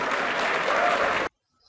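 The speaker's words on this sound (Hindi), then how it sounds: "ज़ोरदार ताली फैयाज़ भाई के लिए।" Audience applause at a mass nikah wedding gathering, a loud, dense burst of many hands clapping together that stops abruptly after about a second.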